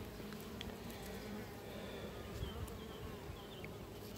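Honeybees at a hive that has been split hum in a steady, soft buzz, with a few bees droning past close by.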